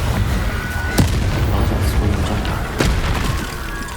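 Spell explosions from the Confringo fire spell in the Hogwarts Legacy video game, with two sharp booming bursts about two seconds apart over a continuous rumbling game soundscape.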